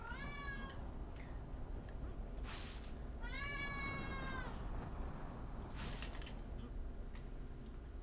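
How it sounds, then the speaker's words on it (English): A domestic cat meows twice, drawn-out rising cries several seconds apart, heard over a constant hiss of background noise with faint clicks and creaks. "Oh man, my cat."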